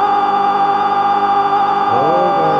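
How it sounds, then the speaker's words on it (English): A supercharged Toyota MR2 with a swapped engine in the Pixel Car Racer video game gives a loud, steady synthesized engine whine with a bright tonal edge that shifts pitch near the end. "listen to the supercharger"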